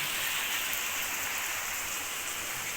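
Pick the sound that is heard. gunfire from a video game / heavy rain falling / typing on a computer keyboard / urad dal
heavy rain falling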